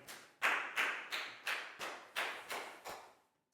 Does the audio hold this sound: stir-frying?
no